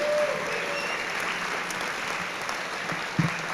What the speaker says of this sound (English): So let's put one more big round of applause together for both Class 424 and Class 13.